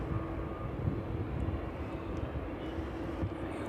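A steady low jet-engine rumble from an aircraft at East Midlands Airport, moderately distant and continuous, with no talking.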